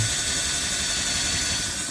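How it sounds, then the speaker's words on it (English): A power drill bores steadily through scrap wood, a continuous loud whirring grind with no pauses, close by and with no voices. "when the drill bit goes through"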